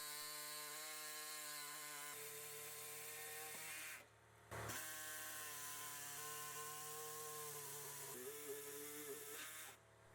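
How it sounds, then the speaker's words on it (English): A power cutting tool, such as a reciprocating saw or cutoff tool, bites into the metal driveshaft carrier frame on a Dodge Durango or Jeep Grand Cherokee WK2. It gives a loud, sustained whining buzz with a brief pause and shifting pitch as the cut proceeds. "Make a cut on each side of the carrier frame."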